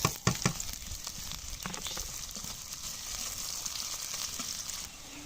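Green chillies and cumin seeds fry in hot oil, a bright steady sizzle with a few sharp pops at the start, continuing evenly close by.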